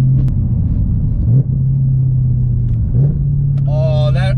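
A 2018 Chevrolet Camaro ZL1 1LE engine drones at a steady low pitch close by, with brief blips as active rev match raises the revs around shifts, while someone talks excitedly over it near the end.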